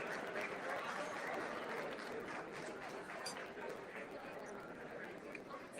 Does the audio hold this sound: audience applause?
yes